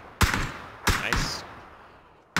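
Gunfire from an MK14 rifle in the video game PUBG on the Karakin map: four sharp, loud single shots spaced irregularly, each trailing off in a short echoing decay.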